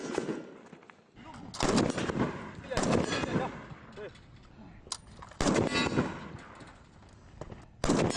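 Rifle shots ring out at an army brigade's steel-plate target shooting contest, several loud sharp bursts with metallic clangs from struck plates, spaced irregularly across an outdoor range with background voices.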